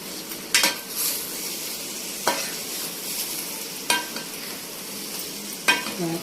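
Stuffed brinjal curry is stirred in a pan after chilli powder goes in. Four distinct spoon scrapes come at uneven intervals over a continuous close, soft sizzle.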